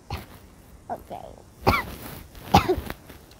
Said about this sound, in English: Why am I coughing in all my videos?